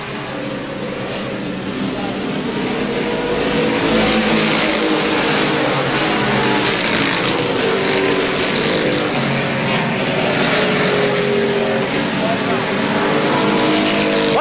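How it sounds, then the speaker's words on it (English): Stock cars race at a speedway in 1987 as a pack roars continuously through turns three and four, loud and sustained, with an announcer talking over the engines. "Owens alongside of Calhoun as the cars enter turns 3 and 4."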